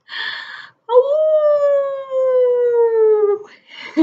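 A human voice imitates a wolf howl during a children's Three Little Pigs story time: after a short breath-like noise, one long, loud, wavering tone slides slowly downward for over two seconds, then breaks off into another breathy sound.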